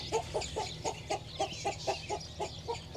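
A full load of chickens at a poultry auction, Rhode Island Reds, roosters and hens, clucking in a steady run of about a dozen short, evenly spaced calls over a low hum of crowded birds.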